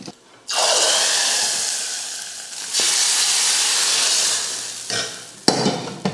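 Mustard seeds, urad dal, asafoetida and curry leaves tempered in hot oil and poured into sambar, producing a loud steady hissing sizzle in two long surges, then shorter bursts, close and without talk.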